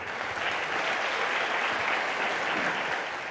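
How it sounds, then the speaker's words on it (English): A crowd at the Miss Gibraltar 2018 pageant applauds past Miss Gibraltars, a steady, full burst of clapping from an audience hall, sustained evenly for a few seconds without talk. "A big round of applause to all of Miss Gibraltars."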